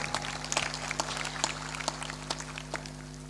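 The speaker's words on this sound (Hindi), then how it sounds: "तालियां इतनी कमजोर क्यों बजाते हो?" A live religious discourse gathering at Soyatkala, Agar Malwa, Madhya Pradesh, where an audience claps weakly: light, scattered, thin clapping with a faint constant electrical hum underneath.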